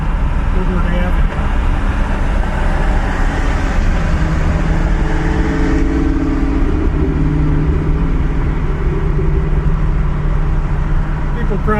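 A 1959 Chevrolet Bel Air cruising south on Woodward Avenue near Detroit, a loud, unbroken drone of engine and road rumble that fills the whole stretch from inside the car.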